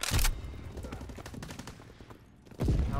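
Rapid gunfire in a ranked shooter game, a loud close burst at the start and another near the end, with a steady run of quieter shots between them and no voices heard.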